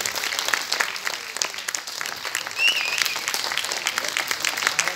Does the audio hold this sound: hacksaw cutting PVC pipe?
no